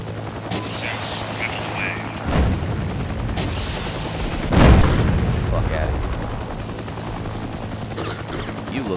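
Helicopter-launched 70mm Hydra rockets in the combat video game Heliborne fire in two sharp, booming bursts over a constant rotor drone, with a faint rumble trailing after each launch.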